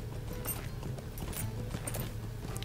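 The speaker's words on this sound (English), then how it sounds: "Let's jump on my horse" A horse ridden across the landscape of The Lord of the Rings Online gives a steady, continuous clip-clop of hooves, close and even, with no talking.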